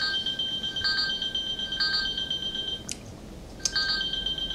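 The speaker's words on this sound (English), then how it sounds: "I think I'm so stressed it's just setting off the alarm" Electronic alarm beeping during play of the video game Limbo, a faint repeating high-pitched tone pattern with short bursts and a brief pause, heard alone at low volume.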